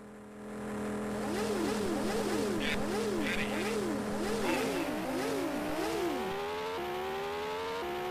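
Engine revving in the Amiga racing game Prime Mover at a race start: a synthesized motorbike tone rises and falls in repeated rev swoops, then climbs steadily as it pulls away, loud and unbroken.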